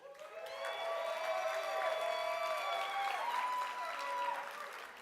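An audience at a gala dinner claps loudly in a sustained round of applause that swells and then eases. A voice carries over the clapping.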